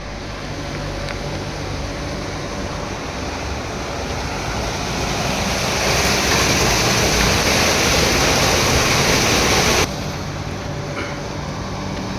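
Water gushes from a water tank, rushing and roaring continuously, loud and close, swelling louder midway before dropping back to a steady gush.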